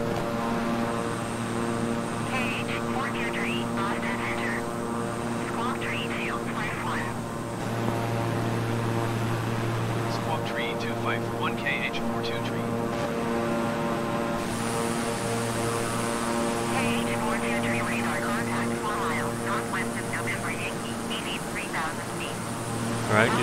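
Steady twin-engine propeller drone of a King Air 350i turboprop in Microsoft Flight Simulator, a continuous layered hum with thrust pushed up, while someone talks over it throughout.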